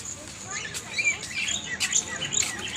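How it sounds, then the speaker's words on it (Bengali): Small birds chirp in a hilltop park beside a resort in Purulia, with several quick, bright tweets and calls that come and go in short bursts, fairly close over a quiet background. "এই যে পাখি এখানে আছে।"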